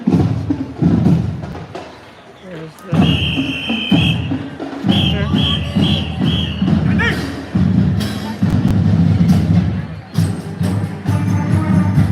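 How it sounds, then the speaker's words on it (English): A drum major's whistle at a high school marching band performance: a few short, shrill blasts cut through the loud band and crowd noise. "Either the director or the drum major is the one that does the whistle."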